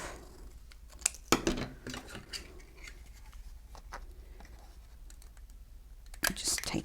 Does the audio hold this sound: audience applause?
no